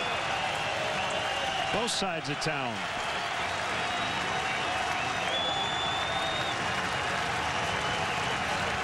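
Baseball crowd at a Cubs vs White Sox game applauding and cheering steadily throughout, a dense wash of clapping and voices with a brief clatter near the start and an announcer talking over it.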